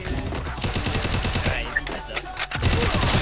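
Loud, dense bursts of rapid video game gunfire crackle in fast succession, a near-continuous barrage with sharp cracks standing out.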